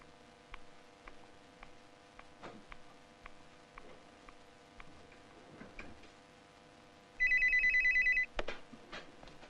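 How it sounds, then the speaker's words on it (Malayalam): A telephone rings in an office scene, a loud, close electronic bell burst lasting about a second over a steady background of faint ticking and soft clicks. "ഹോൾഡ് ചെയ്യൂ. വിജയലക്ഷ്മി, ഫോൺ"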